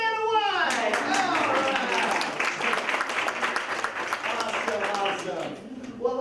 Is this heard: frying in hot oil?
no